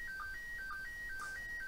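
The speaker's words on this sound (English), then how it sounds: "This is the sound of slow scan TV or SSTV." A slow scan TV (SSTV) radio transmission received through an SDR, a faint warbling series of clean electronic tones stepping rhythmically between pitches over a soft background hiss.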